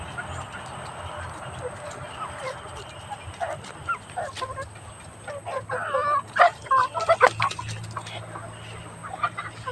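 Chickens squabble in a backyard, with clucks and sharp squawks rising in bursts over the second half above steady low background noise, while people talk faintly nearby.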